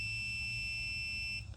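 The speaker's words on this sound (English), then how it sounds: "So you should get a beep" Continuous steady electronic beep from a continuity tester, held for about a second and a half before cutting off, with a low hum underneath, during work on a 2005 Ford Focus ST.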